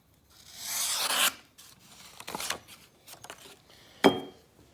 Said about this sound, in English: kind of a neat little pocket sharpener